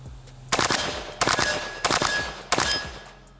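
Four sharp rifle shots from a Krebs M23 AK, spaced roughly evenly and loud and close, each with a short ringing tail and no talk over them.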